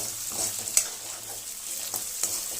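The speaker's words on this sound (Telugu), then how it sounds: "పచ్చివాసన పోయేంత వరకు వేపుకోవాలి" Ginger garlic paste fries in a pan with a soft, continuous sizzle, broken by a few light clicks and scrapes of stirring, and nobody speaking.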